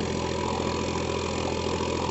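A Farmtrac 60 Supermaxx 55 hp tractor, a 2021 model with EGR, runs steadily nearby, its engine a loud, even diesel drone with no pauses and no talk.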